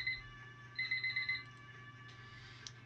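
A live stream timer alarm sounds as time runs out: a quick run of bright electronic beeps over a steady low hum, then quiet.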